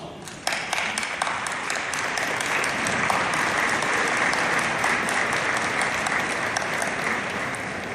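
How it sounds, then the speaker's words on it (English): Sustained applause from a standing graduation audience saluting a professor at a commencement ceremony, steady and full for about eight seconds after a sharp start. "why don't we please just stand and salute our professor with a round of applause"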